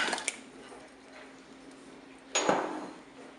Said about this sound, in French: Je vais maintenant ajouter les champignons de Paris, les pommes de terre.